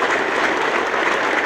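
A cricket crowd at a Test match applauds a partnership reaching 400, with dense, steady clapping that fills the whole stretch.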